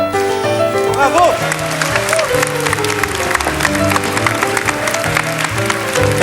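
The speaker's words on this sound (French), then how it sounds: "et puis vous avez applaudi, alors bravo" Applause from a TV studio audience in 1977 rises alongside music, a loud and steady wash of clapping, with some talk mixed in.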